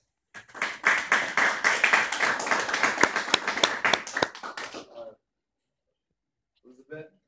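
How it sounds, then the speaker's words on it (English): A small group audience claps for three chefs after a food presentation, brisk close clapping lasting several seconds before stopping abruptly, with a brief sound near the end. "How about a round of applause for our 3 wonderful chefs?"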